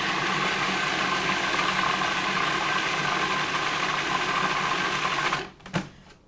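A food processor whirs steadily as it blends muhammara, a loud continuous motor hum that stops abruptly near the end, followed by a brief clunk.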